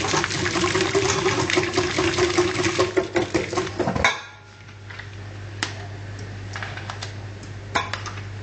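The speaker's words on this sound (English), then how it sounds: "Just put a few blobs in at a time and whisk it in with the egg" A whisk beats softened butter into egg in a bowl for quiche filling, giving rapid, busy clicking and clattering for about four seconds. It then stops, leaving a low hum and a few scattered utensil taps.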